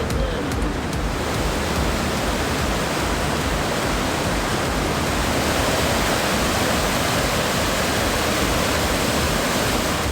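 Water from a breached irrigation canal at the 76th kilometre near Vavipalayam, flooding farmland, rushes as a loud, steady broadband roar that runs unbroken and close throughout.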